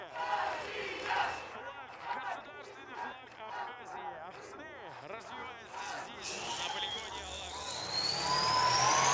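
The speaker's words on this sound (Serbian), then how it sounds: "Evo njihovih navijača, naravno, koji su prezadovoljni njihovim nastupom." Fans cheer and shout for the Abkhazia tank crew at a Tank Biathlon 2022 event, a steady loud crowd din with mechanical engine roar rising toward the end.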